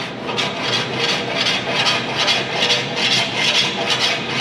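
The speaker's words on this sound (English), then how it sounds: "where the rasp is cutting is high and where it's not cutting is low" A drywall rasp files across a surface in quick repeated back-and-forth strokes, making a rhythmic, close and loud scraping rasp with no talking.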